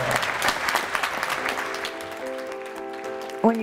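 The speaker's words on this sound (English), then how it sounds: "ask for a round of applause for them" An audience at an event on youth suicide in Arizona gives a warm round of applause that fades after about two seconds, followed by a sustained tonal sound.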